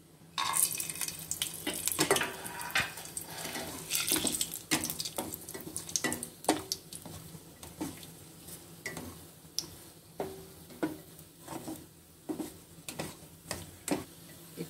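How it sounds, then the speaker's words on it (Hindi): Cashews being dry-roasted in a kadhai, right after peanuts were roasted in the same pan, with soft scraping and stirring strokes and a faint sizzle. The strokes come close and steady, repeating every second or so, with no talk. "इसी कढ़ाई में मैं ये काजू भी हल्का सा भून लूंगी"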